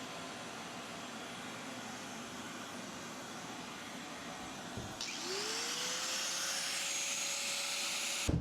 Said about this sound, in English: I could hold the angle grinder in one hand and the shop vac in the other